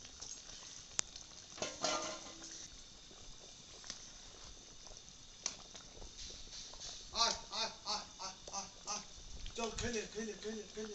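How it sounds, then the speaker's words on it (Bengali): Katla fish slipped into a boiling pan of curry for a yogurt-based dish, giving a soft, steady bubbling sizzle with a few sharper spits, while someone talks over it. "ফুটে গিয়েছে, এবার মাছগুলো দিয়ে দিচ্ছি।"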